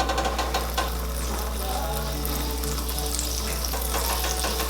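Butter and olive oil melting and sizzling in a pan ahead of cooking portobello mushrooms, a steady close frying hiss with crackle, running continuously and uninterrupted.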